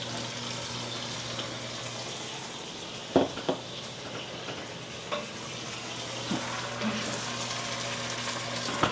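Rinsed beans frying in a pan while being stirred, a steady close sizzle with a few scraping knocks from the utensil and no voices.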